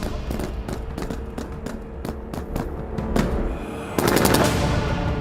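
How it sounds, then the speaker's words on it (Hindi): A 30 mm gun fires tracer rounds at a target, giving a string of sharp, loud shots at an uneven pace, then a denser, harder burst near the end over a rumbling background. "वहाँ पर तेज लाल जो बुलेट है 30 mm की वो जा रही है"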